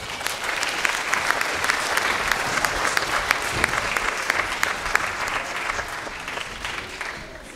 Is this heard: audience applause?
yes